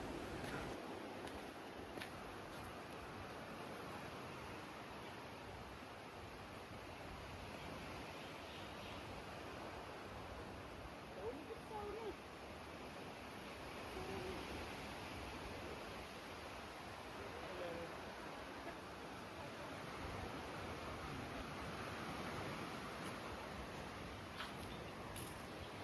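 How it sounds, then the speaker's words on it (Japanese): Steady, soft wash of ocean surf heard from a distance through tropical rainforest trees on the Desaru Coast, Malaysia, a continuous low rumble with no distinct breaks or voices. "波の音だけが木々の向こうから静かに届いていた"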